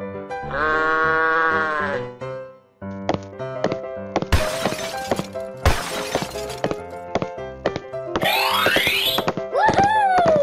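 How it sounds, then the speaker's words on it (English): Sheep bleat in a cartoonish animal sequence, a loud wavering bleat at the start followed by a busy run of boings, shattering crashes and whistly sweeps from other effects. "Sheep."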